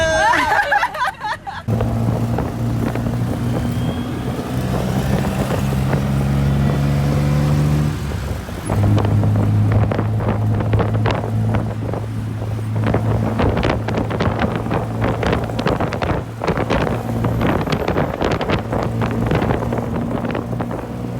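A tuk-tuk ride through Thailand: a continuous close engine drone with steady wind buffeting across the microphone, plus scattered road and traffic noise throughout.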